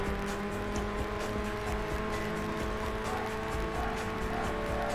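Cars race along a long, winding track in the Burnout video game, passing yellow traffic cars and semi-trucks, with a steady, dense engine roar and tire noise that carries on throughout.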